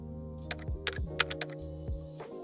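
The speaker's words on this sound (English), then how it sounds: "let's type gem-v" Keystrokes on a computer keyboard as a command is typed into a terminal, a quick irregular run of close, crisp clicks over a steady low hum, with no talking.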